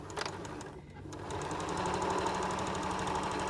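A sewing machine runs a seam along a quilt block for an arrowhead star quilt. It starts after a brief pause, then becomes a fast, steady mechanical whir close up that continues to the end, with no talk.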